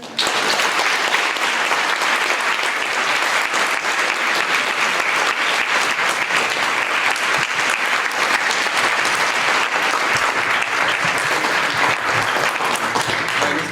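Dense, loud applause from an audience at the close of an evening lecture on Islam and culture, continuous and sustained for the whole stretch with no voices standing out.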